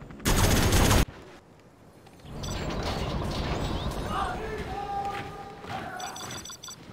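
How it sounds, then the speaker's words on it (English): Minigun fire from infantry in C&C Generals Zero Hour online play: a dense, sustained mechanical rattle of rapid gunfire with clicks and thumps, after a brief loud burst at the start, with game voice lines mixed in. "Nothing will stop our minigun."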